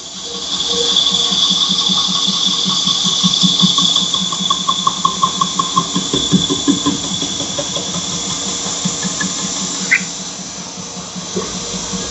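A belt grinder works a knife bevel held in a Black Dragon bevel grinding jig, giving a steady hissing rasp with a fast rhythmic pulse that eases off toward the end.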